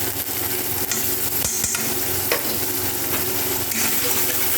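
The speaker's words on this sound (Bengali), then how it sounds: "আমি একটু সামান্য জল দিয়ে মশলাটা কষিয়ে নেব" Ground spice paste with cumin, chilli, salt and turmeric frying in a pan, a steady dense sizzle running throughout with a few faint clinks of a utensil.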